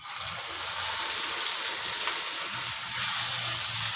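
Goat blood poured over sautéed onions with green chili in a pan gives a steady, dense sizzle and frying hiss with faint liquid bubbling throughout, close and continuous.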